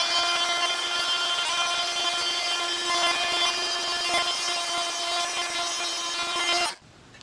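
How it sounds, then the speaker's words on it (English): A power tool sands a 3D-printed Darth Vader armor part, giving a steady high whine with a buzzing edge that runs without a break for about six seconds and then cuts off abruptly, close and alone. "If you sand too long on one spot, it'll start to melt."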